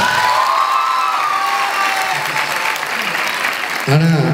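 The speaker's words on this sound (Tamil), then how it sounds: "ஒரு கைத்தட்டு கொடுக்கலாம்ல?" Audience applause for a singer at a university singing competition, a loud continuous wash of clapping with some cheering, and a voice speaking briefly near the end.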